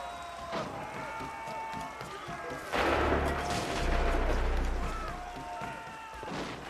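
Rattling gunfire and heavy booms in a video game war battle, steady bursts with a louder deep rumble midway, voices faintly underneath.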